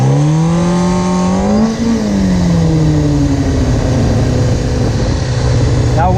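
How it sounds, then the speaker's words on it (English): A motorcycle engine revs loud and close during a clutch-up wheelie stunt, holding a strong, droning roar that climbs, dips briefly, then climbs again as the throttle is worked. "you know how to do a clutch up wheelie the way I'm showing you right now"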